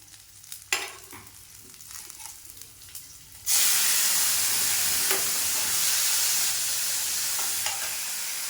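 Tomatoes dropped into a pan of frying garlic and onion for guava chutney make a sudden loud burst of sizzle about halfway through. The hiss stays loud and steady after quiet clinks and stirring taps at the start.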